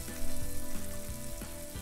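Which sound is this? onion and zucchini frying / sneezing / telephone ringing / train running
onion and zucchini frying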